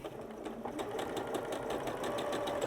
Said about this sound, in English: I was sewing on this. This is the Janome Memory Craft 9480QC